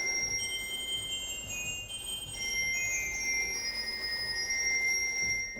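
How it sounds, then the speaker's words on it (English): Orchestral bells ring in a recording studio, bright sustained metallic tones overlapping and shifting pitch in a gentle, continuous shimmer. "You've got orchestral bells."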